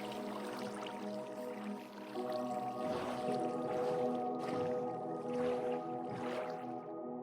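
Minecraft survival gameplay ambience while riding up a waterfall toward a boat: steady rushing, bubbling water with splashy swells, continuous and fairly close throughout.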